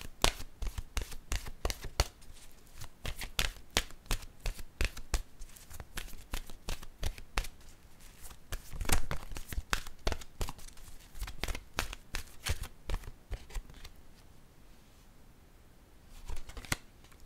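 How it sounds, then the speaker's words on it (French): Oracle cards are shuffled by hand in quick, crisp riffling bursts, close and soft, with short pauses between rounds, then slowing near the end. "Je vais piger maintenant une carte de mon oracle de l'âme intuitive."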